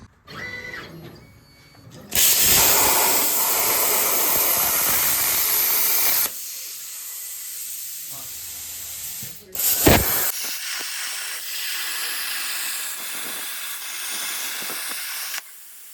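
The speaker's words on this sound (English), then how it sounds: "So let's go ahead and do some plasma cutting." A plasma cutter slices steel plate for repairing a Jeep YJ frame, producing loud, steady, hissing roars in several long bursts broken by short pauses, with no talk.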